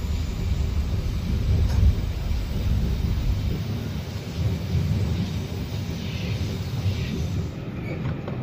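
A train on the Qinghai-Tibet railway crossing the high Tanggula Pass, with a steady low rumble and rolling noise throughout, heard from inside or close by.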